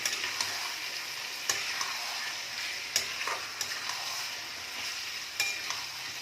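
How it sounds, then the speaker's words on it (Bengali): Mutton pieces fry in a hot pan for curry, with a steady broadband sizzle and repeated sharp scrapes and knocks from a spoon stirring the meat at irregular intervals. "এবার মাটনটাকে দিয়ে ভালো করে এটাকে একটুখানি কিছুক্ষণ কষতে হবে।"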